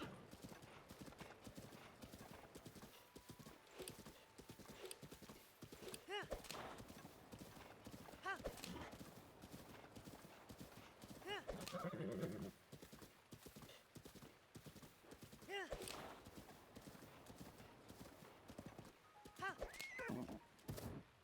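A horse gallops in the video game Zelda Breath of the Wild, its hooves clip-clopping in a quick, steady rhythm with an occasional whinny and a voice talking now and then over the game sound.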